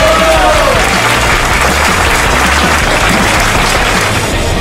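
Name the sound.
crowd applause at motocross prize ceremony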